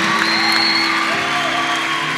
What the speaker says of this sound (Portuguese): Dá uma salva de palmas para os visitantes